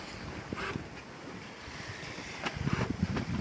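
Wind and waves surround a sailboat at sea on a solo passage toward Mindelo, Cape Verde. Steady broadband rushing with microphone buffeting builds louder and choppier toward the end, with no talk.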